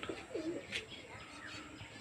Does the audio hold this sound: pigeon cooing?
yes